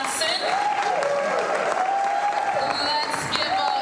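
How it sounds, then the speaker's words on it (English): An audience at an event with a city mayor gives a continuous wash of applause, with whoops and voices rising over the clapping throughout. "Everybody give a big round of applause to Sheila Johnson."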